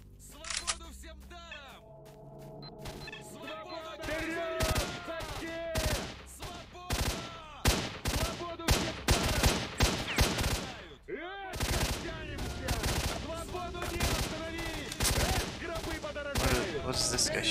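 Gunfire from the video game S.T.A.L.K.E.R.: Shadow of Chernobyl: dense bursts of sharp, rapid shots with ringing tails, loud and close, separated by brief pauses.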